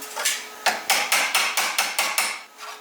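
An old hammer pounds sheet metal during car body floor and sill repair, with about nine sharp, evenly spaced metallic blows, close and loud, tapering off at the end.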